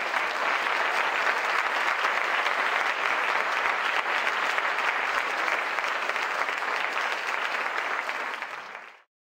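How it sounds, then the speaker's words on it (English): Dense, sustained applause from a large audience at a public forum after the speakers finish, an even roar of many hands that holds steady, then cuts off abruptly at the end. "Round of applause for our speakers, please."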